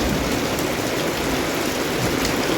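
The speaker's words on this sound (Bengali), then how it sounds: "যেমন বাতাস হচ্ছিল তেমন বৃষ্টি হচ্ছে।" Heavy rain driven by wind, a dense, continuous hiss and patter on surfaces. It stays loud and even throughout, with no voices.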